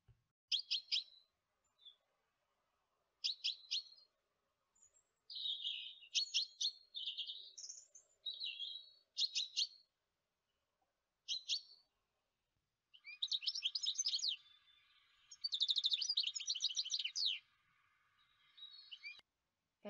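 A finch sings in a mountain setting, giving bright, high, twittering phrases and quick chirps in short bursts separated by silence, with longer warbling runs toward the end, fairly clear and alone.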